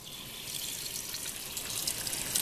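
Running tap water hisses steadily into a sink while foraged dandelion greens are washed under it, a close, even rush with faint splashing and no voices.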